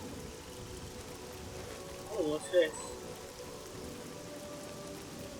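Steady, soft hiss of rain falling at night in the game Oblivion, a constant wash throughout, with someone briefly speaking over it midway.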